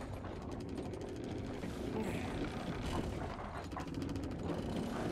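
Crank-operated door mechanism slowly opening in Resident Evil Village, a steady mechanical grinding with rapid ratcheting clicks and creaks that runs continuously throughout.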